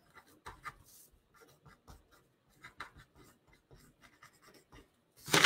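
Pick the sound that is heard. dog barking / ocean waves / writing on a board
writing on a board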